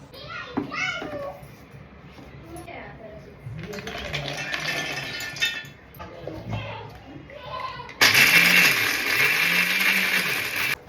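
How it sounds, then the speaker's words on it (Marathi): After some clattering and someone talking, a mixer grinder starts up grinding dates and dry fruits with a loud, harsh whirring roar that continues to the end. "आता हे सगळं थंड करून मिक्सरला आपल्याला बारीक करून घ्यायचं आहे"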